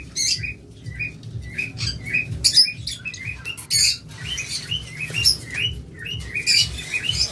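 A pair of lovebirds chirps in quick, high bursts, with repeated tweets scattered through the whole stretch over a low background rumble, fairly close and with no talking.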